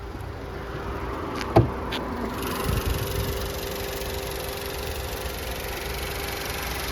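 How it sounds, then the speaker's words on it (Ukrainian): A 2017 Volkswagen Golf VII engine idles quietly and steadily with a low hum, broken by a couple of brief clicks and knocks near the start. "Двигун так тихо працює, що місцями його не чути."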